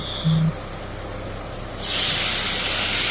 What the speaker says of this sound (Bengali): এবার আমি কিন্তু জল ঢেলে দেব।